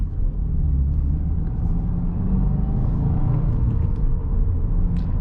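A car's engine runs with a slight rev hang, a loud, steady low rumble from inside the cabin that continues unbroken throughout, with a faint rise and fall in pitch.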